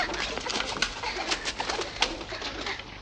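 Doves cooing in the 1957 film The Singing Ringing Tree, soft repeated calls from several birds over a hissy, noisy background, with no talk.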